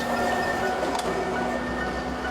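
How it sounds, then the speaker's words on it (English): Train crossing the Nine Arches Bridge at Ella, Sri Lanka: a steady, loud rolling rumble with grinding metallic tones and a brief sharp squeal, continuous and close, with no talking. "As you can see, the train is super loud."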